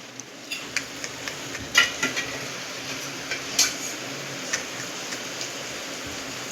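Oil in a pan for pasta, with a utensil scraping and clinking against the pan in a series of light taps, over a steady soft sizzle at close range.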